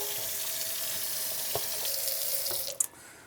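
Tap water runs steadily into a sink while paint brushes are rinsed clean after a dresser makeover. There is a soft clatter or two near the end, and no talking.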